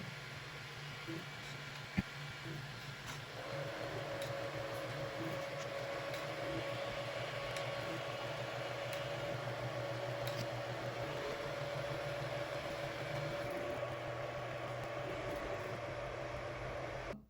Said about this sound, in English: Now it's moving to the G29 where it's going to conduct 9-point leveling after auto homing.